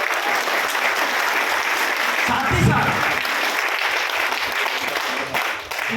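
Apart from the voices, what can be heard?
applause for the company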